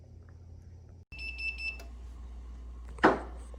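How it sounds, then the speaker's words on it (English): Beeping timer alarm from a sous vide cooker during a sirloin steak cook, a short series of bright electronic beeps over a low steady hum, followed by a brief clatter near the end. "the timer just went off"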